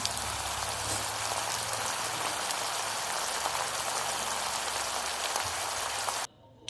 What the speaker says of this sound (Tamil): அந்த தவாவில் போட்டு எல்லா ப்ரெட்டையும் நீங்கள் வந்து பொரிச்சு எடுத்துக்கோங்க